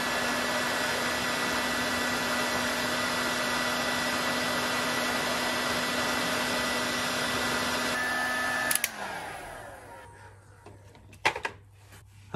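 A heat gun blows steadily to shrink heat-shrink tubing over wiring for a horn install, a loud constant broadband whoosh with a tonal whine that cuts off near the end, followed by a few clicks and handling knocks.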